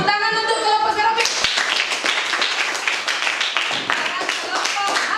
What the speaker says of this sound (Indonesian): Tepuk tangan untuk kelompok serofit.